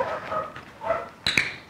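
A dog gives short barks and yips during a multi-dog obedience training session, two sharp close sounds near the end after a brief stretch of faint background noise.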